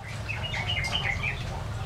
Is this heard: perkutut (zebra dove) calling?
yes